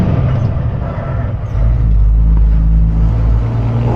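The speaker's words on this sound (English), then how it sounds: "We're going a bit slow up this hilly," A car with a manual gearbox grinds slowly up a hill, its engine note a steady low drone that swells and grows louder halfway through as it pulls along, with no talking.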